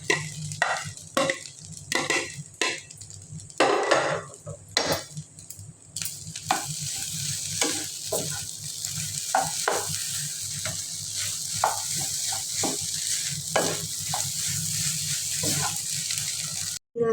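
Sausage and scrambled egg fry in a pan, giving a loud continuous sizzle with intermittent scraping strokes of a spatula, close up and steady throughout with no talk over it.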